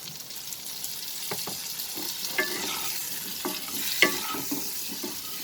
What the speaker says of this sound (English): Now at this stage we will add the remaining butter.